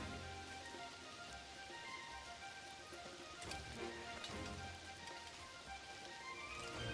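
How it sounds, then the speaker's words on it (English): Soft, steady rainfall hisses continuously in the video game Outward, faint and even with no voices. "it's raining right now"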